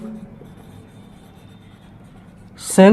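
Marker or chalk scratching on a board during an accounting lesson, a steady soft rubbing stroke for most of the stretch, with a voice breaking in near the end.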